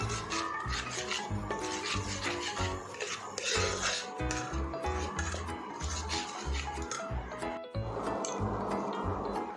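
Spices with Kashmiri chilli powder are sautéed in a pan for palak paneer, making repeated close scraping and rubbing strokes from a utensil stirring against the pan in an uneven rhythm.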